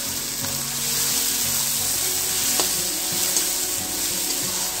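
Pav bhaji masala mixture with red chili powder being stirred in a hot pan, a steady close sizzle with faint scraping strokes running continuously throughout.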